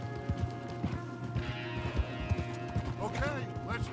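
Horses' hooves in Red Dead Redemption 2 clop in a rhythmic walking beat close by, under a low steady hum, with a whinny-like call near the end and voices talking over it.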